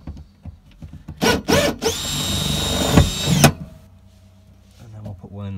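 A power drill whirs steadily for about two seconds driving a hex screw into a classic Mini cross member, winding down, with brief bursts before and a voice talking around it.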